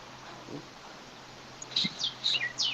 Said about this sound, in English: Is that a bird near you, Don?